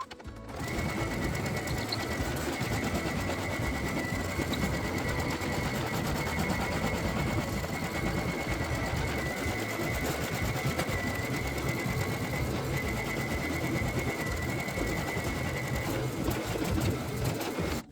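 An embroidery machine stitches a quilted matelassé pattern on fabric, giving a steady, fast mechanical whir and rapid needle clatter that runs continuously at moderate volume without speech.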